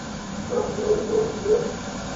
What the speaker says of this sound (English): some steam's coming out